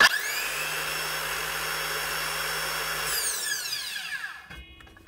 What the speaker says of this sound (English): Now, next up, Makita skill saw.